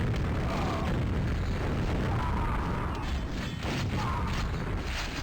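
A rocket launcher fires in a bot match of a first-person shooter, with a continuous heavy roar of blasts and explosions rumbling at steady loudness for several seconds and no talking.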